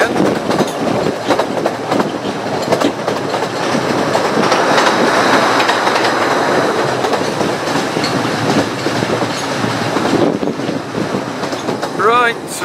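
A Ravenglass & Eskdale Railway train runs into Ravenglass station, wheels rumbling and clattering loudly nearby, with a rising squeal of wheels near the end.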